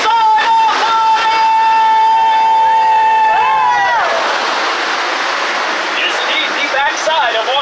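A waterfall on the Jungle Cruise ride crashes loud and close as a steady broadband rush, preceded by a sustained tonal musical note, with spoken narration before the water takes over.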